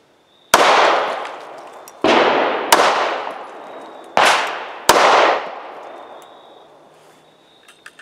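Five sharp pistol shots from a High Point C9 fired point blank into a pillow, each a loud crack with a short decaying tail, spaced irregularly over several seconds with no talking.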